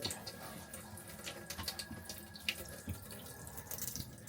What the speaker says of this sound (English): And we have running water.